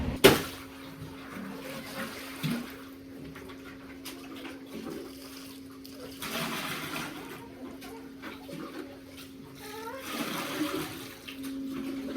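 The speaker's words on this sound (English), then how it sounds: "all the water is just running right into here" Meltwater runs and trickles steadily off half-frozen ground in Minnesota at moderate distance, with a faint low hum underneath and occasional splashy surges.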